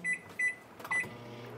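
Microwave oven keypad beeps three times in quick succession as it is set to melt chocolate, followed by a door or latch clunk and the start of a low running hum, close and fairly quiet.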